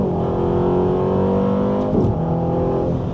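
A Ferrari Roma sports car accelerating hard, a loud close engine roar that climbs steadily in pitch, briefly dips around a shift, then keeps pulling, heard from inside the car with no talk.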